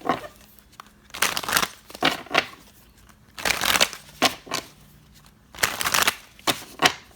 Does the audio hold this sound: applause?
no